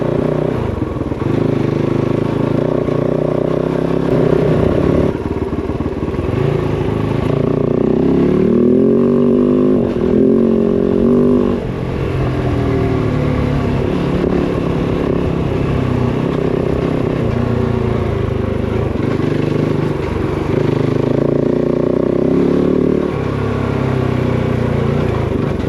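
A KOVE 450 Rally motorcycle on a dry byway, its single-cylinder engine droning steadily and loud throughout with rising and falling throttle and some mechanical clatter, no talking.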